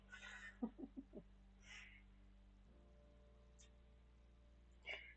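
A dog gives a few high, thin whines that sound almost like bird chirps, then the sound fades into a quiet hum with one faint whimper near the end.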